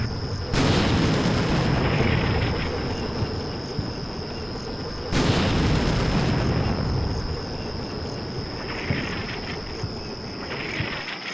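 Two heavy artillery blasts in Combat Mission: Shock Force 2, each a sudden loud broadband boom that rolls into a long rumbling decay, the second landing about five seconds after the first, with a steady high whine throughout.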